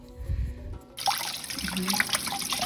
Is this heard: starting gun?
no